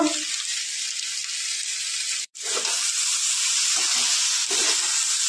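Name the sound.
frying ground coriander and cumin, stirred in pan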